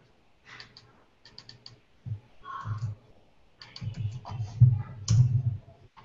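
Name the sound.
computer keyboard keys being typed on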